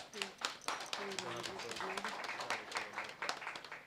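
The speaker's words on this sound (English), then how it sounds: "I would like for you all to give them a massive round of applause." Audience applause at the launch of the Prime Minister's Cup 2025, a scattered burst of hands clapping beneath a voice that keeps talking, the claps sharp and uneven over a few seconds.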